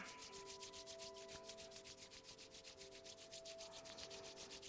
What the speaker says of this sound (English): begin rubbing those palms together